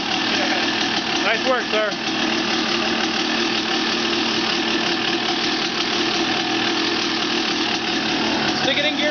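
A restored 1989 Honda CR250R two-stroke motocross engine idles steadily and loudly up close, with a rough, knocking throb that carries on throughout while someone speaks briefly over it.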